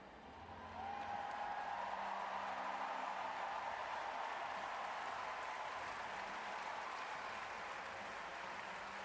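A home crowd at the London 2012 Paralympic track cycling roars after a British rider takes C1 pursuit gold in world record time, a sustained, dense wall of cheering and applause that swells in within the first second and holds steady throughout.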